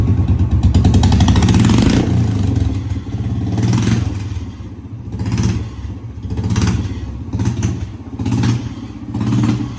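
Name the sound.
Royal Enfield Bullet motorcycle engine revving without exhaust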